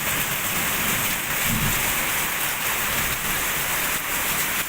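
Steady rain pours down onto surfaces nearby, a dense, constant hiss with no voices over it.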